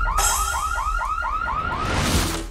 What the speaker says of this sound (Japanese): わっ、警報だ。